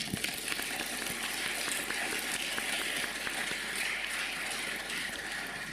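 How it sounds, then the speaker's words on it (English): Applause at a Grade 12 graduation ceremony, a broad, steady rush of many hands clapping in a large space, heard at a distance and sustained evenly throughout. "I would like to ask everyone here to give a round of applause to these somehow hidden or unknown members of our school community."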